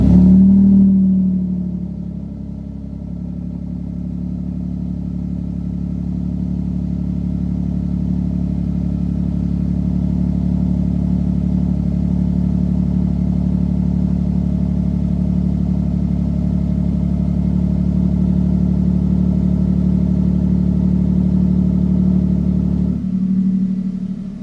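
A 2022-or-newer Toyota Tundra with an exhaust dump starts up, firing into a deep, loud rumbling idle that holds steady and close for over twenty seconds, then drops off near the end.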